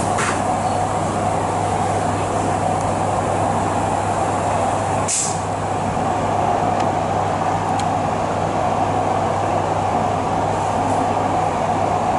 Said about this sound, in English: welkom aan boord City Direct in de richting van Amsterdam Centraal